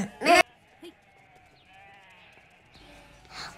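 A single short, loud sheep bleat sounds near the start, followed by quiet with only faint tonal background.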